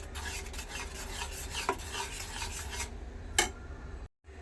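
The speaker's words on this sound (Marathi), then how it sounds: "बघा अशा प्रकारे आपण सतत हलवत हलवत राहायचं आहे" Gram flour batter for kothimbir wadi stirred continuously in a pan: rhythmic scraping and rubbing strokes with soft sizzling, a couple of sharper clinks of the utensil against the pan, then a brief pause.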